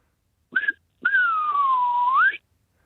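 A person whistles an imitation of a bird call: a short wavering note, a pause, then one long sustained whistle that dips and rises again at the end, clear and close with no talking.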